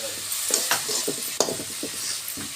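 Tomatoes and red chilli sizzling in a pan for paneer bhurji gravy, with close, brisk stirring scrapes over a constant frying hiss.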